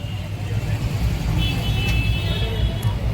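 Road traffic in a jam behind a hospital, heard from inside an ambulance: a steady low engine rumble and idling vehicles with faint higher whine, continuous and moderately loud, with no one talking.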